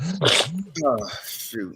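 A single sharp sneeze bursts out in a late-night comedy game show studio, followed immediately by people talking nearby.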